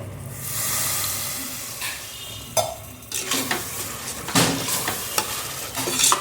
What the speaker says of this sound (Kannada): ಚೆನ್ನಾಗಿ ಫ್ರೈ ಆಗುತ್ತೆ ಮಸಾಲ ಪೌಡರ್ಸ್ ಎಲ್ಲ